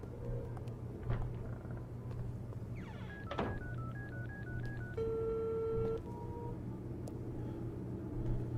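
Telephone number dialed in the video game Unheard: a quick series of short keypad tones steps up and down in pitch, then a longer held tone follows, all faint over a low steady hum with a couple of soft thuds.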